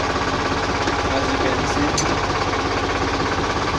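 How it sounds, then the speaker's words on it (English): A New Holland tractor engine runs while the tractor is driven, giving a loud, steady, rattling diesel drone throughout, with someone talking briefly over it. "That's how you drive the new Holland tractor."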